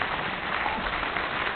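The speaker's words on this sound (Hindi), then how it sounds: "एक बार जोरदार तालियां बजा दीजिए इनके लिए।" An audience at a Hindi poetry gathering gives a loud, sustained round of applause, a dense, even patter of many hands with no voices over it.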